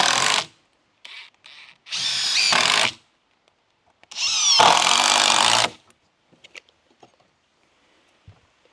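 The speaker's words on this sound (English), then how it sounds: "And then put another 3 screws in." Power drill driving screws into the wood of a barrel sauna during assembly, in several short bursts of whirring, two longer runs among them, with quiet gaps and light handling clicks between.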